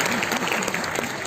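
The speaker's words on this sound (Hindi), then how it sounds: "मेरे सम्मान में भी ताली बजा दीजिए" Steady applause from an audience at a Hindi poetry gathering (kavi sammelan), a dense continuous patter of clapping filling the short moment with no break.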